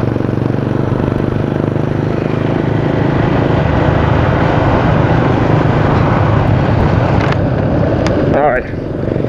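A Suzuki Gixxer 150 motorcycle is ridden at speed, producing a loud, constant roar of wind buffeting mixed with engine drone. The sound drops away abruptly near the end.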